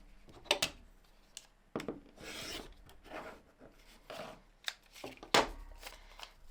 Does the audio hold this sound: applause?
no